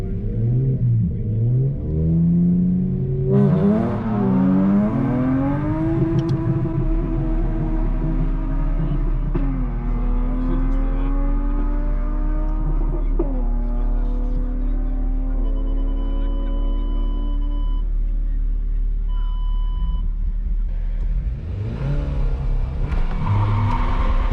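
A Volkswagen Arteon racing at a car meet, its engine heard from inside as it revs hard through rising gear pulls with shifts between, loud and sustained, then easing off near the end.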